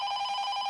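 Brief electronic ring of a telephone indoors, a steady warbling tone heard alone, moderately faint and lasting under a second.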